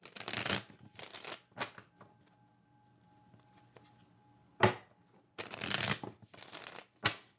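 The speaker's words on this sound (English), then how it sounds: "3 more shuffles." Several bursts of tarot cards being shuffled, crisp riffling rustles close by, separated by quiet pauses with a faint background hum.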